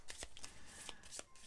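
A quick, crisp riffle of playing cards from the Nemesis board game being shuffled, a rapid run of soft flicks and taps close by.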